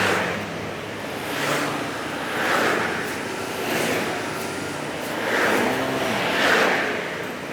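A delivery motorcycle rides through Korean city traffic, its engine and road noise a continuous rushing drone that swells and fades in waves, with wind buffeting the rider, and no clear talk.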